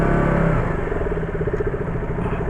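A 2018 KTM RC 200 motorcycle engine runs close by, a loud, throbbing mid-pitched drone that pulses rapidly after an initial higher rev eases off.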